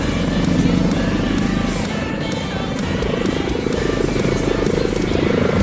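A Mi-8 helicopter with twin Klimov TV3-117 turboshaft engines flies a solo display at Sochi, its steady rotor thrum and turbine whine loud and continuous, with a commentator talking over it throughout.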